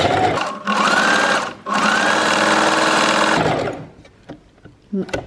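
A sewing machine stitches fabric in two long, steady motor runs split by a short pause, then stops, followed by a few light clicks and handling sounds.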